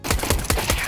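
Rapid burst of gunfire in the video game CS:GO, several sharp shots in quick succession at close range, loud and without talk.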